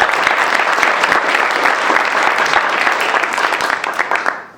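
An audience at a Table Topics speech contest claps for a speaker, a dense, steady burst of applause filling the room that thins out toward the end.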